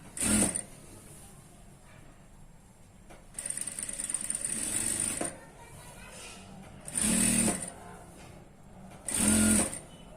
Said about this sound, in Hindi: तो इतनी जगह पे हम इसे सिलाई लगाते हैं